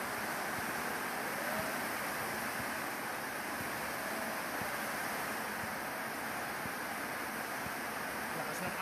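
Water surges in a constant broadband rush beneath the raised floor of a flooded house, a dense steady wash of waves with no clear breaks, moderately loud and close throughout.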